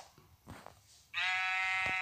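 A sheep in Minecraft gives one clear, drawn-out bleat after a couple of soft shuffling sounds, close and fairly loud.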